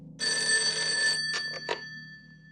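A telephone rings loudly with a steady electronic trill, followed by a few shorter bursts of ringing before it stops, in a wartime drama scene.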